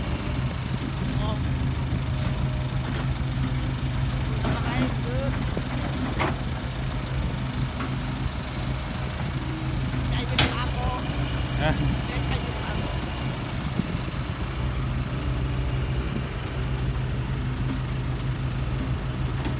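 A tractor engine runs with a steady low rumbling drone close by, while someone talks over it and a few brief clanks and clicks break through.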